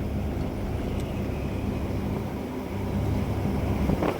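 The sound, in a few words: wind blowing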